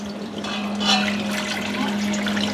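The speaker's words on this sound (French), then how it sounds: "Tu mets de l'eau." Water is poured into a pan to start a caramel for apple tarte tatin, making a steady, close gushing splash that swells briefly partway through and stays alone without talk.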